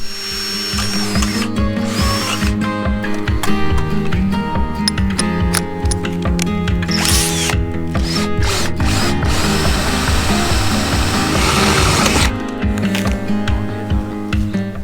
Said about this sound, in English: I need to drill some holes through the metal base